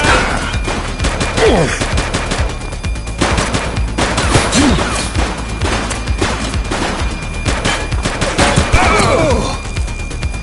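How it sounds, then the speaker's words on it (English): Rapid bursts of automatic gunfire crackle loudly through a police shootout in a video game, continuous volleys with sharp individual shots, while voices shout briefly amid the firing. "Shots fired!"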